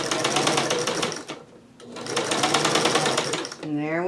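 A sewing machine stitches jellyroll quilt fabric in a rapid, even needle rhythm, close and loud, pausing briefly midway before resuming; a voice speaks at the end.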